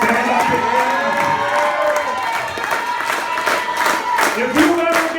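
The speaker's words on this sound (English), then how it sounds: "If you're one of the brother-in-laws, stand up and clap." Wedding guests stand, clap and cheer during a best man's speech, a loud crowd of whoops, shouts and applause with voices calling out over steady clapping throughout.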